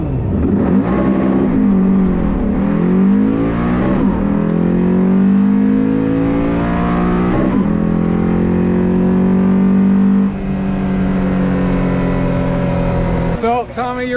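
Race car engines rev and whine near a finish line, their pitch rising and falling in repeated sweeps as the cars pass. The roar is loud and continuous for most of the stretch, then cuts off into a few sharp clicks at the end.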